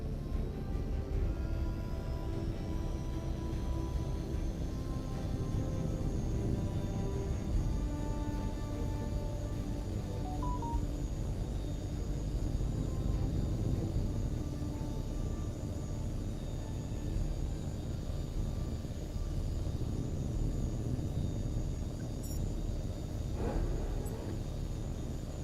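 An aircraft takes off in a video game, its engine a steady, loud rumble with a sustained whine that holds for the whole stretch without letting up.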